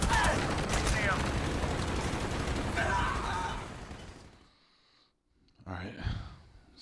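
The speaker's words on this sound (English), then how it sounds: "Of course, already shooting me." Dense gunfire from the video game Call of Duty Black Ops, rapid continuous automatic bursts that fade into a brief lull before a few more shots and scattered noise, loud and close.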